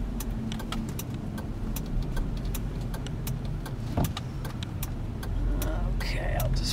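A car drives and slows to park at sunset, with a steady engine and road rumble and a regular rapid ticking throughout, then a brief louder rustle and shift in the engine sound near the end.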